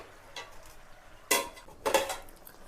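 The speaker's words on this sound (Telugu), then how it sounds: "మళ్ళీ మూతేసి ఉడికిచ్చేసుకుందాం" A lid is set down on a cooking pot of simmering vegetables in a home kitchen, giving two short metallic clanks close by, with a faint earlier tap and no talk.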